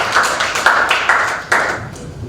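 Audience applauding a lecturer before a talk on Christian iconography, loud close clapping in a few irregular bursts that fade out after about two seconds.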